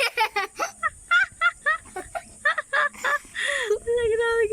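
A duck gives loud, harsh honking and quacking calls in quick bursts close by, with a longer trumpeting cry near the end.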